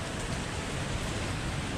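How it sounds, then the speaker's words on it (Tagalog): Steady rain falling outside a shopping mall in Singapore, a dense, even hiss of broadband noise at moderate volume with no distinct drops or voices. "Maulan."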